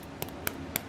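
Three quiet, evenly spaced hollow knocks, like tapping the crust of a baked loaf, over a faint background.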